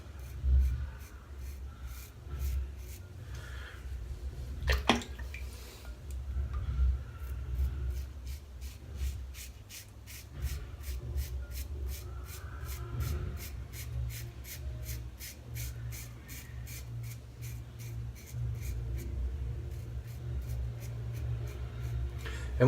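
A razor blade glides steadily over a head during a wet shave, giving a continuous soft scraping rub with quiet repeated strokes and a low background rumble, close and fairly even.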